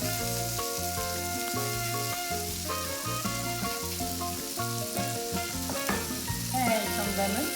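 Salmon fillet with lemon zest sizzles in a hot pan, a steady fry hiss running beneath loud, continuous music throughout.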